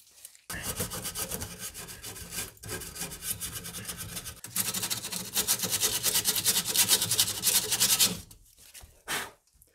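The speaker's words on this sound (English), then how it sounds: "Just did a quick test there with some sandpaper and a grinder just to see what I was looking at here." Metal on a BMW E31 850i is worked with sandpaper and a grinder in a steady, close rasping scrape that grows into louder, harsher grinding, then cuts out and is followed by one short final burst.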